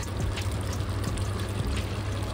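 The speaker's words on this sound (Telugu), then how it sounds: "ఇప్పుడు మనకి ఎంత కావాలో వాటర్ అంత యాడ్ చేసుకోవచ్చు" Hot water poured from close by into a pan of chicken curry, a soft continuous trickling splash over a low steady hum, with no speech.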